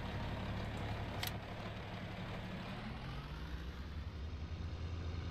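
A John Deere 4020 tractor in Farming Simulator 19 idles with a steady, low diesel rumble and a constant engine drone, close and unbroken, with one brief high click partway through.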